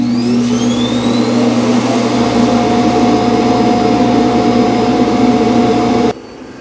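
A eufy X10 Pro Omni robot vacuum's base station runs its auto-empty cycle, a loud, steady suction roar with a whining motor tone that holds for about six seconds, then cuts off abruptly to a quieter hum.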